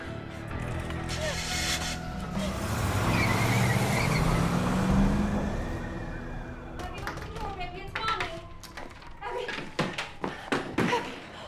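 A car pulls away in a tense film scene, its engine swelling to a loud, rising roar and then fading. Sharp knocks and clatters follow near the end.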